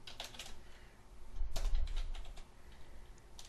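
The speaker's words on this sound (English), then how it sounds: "in cell A3, we'll type in" Fingers tap on a computer keyboard in quick, quiet bursts of keystrokes, close by and with no voices.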